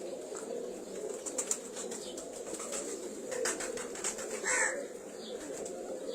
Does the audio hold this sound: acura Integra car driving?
no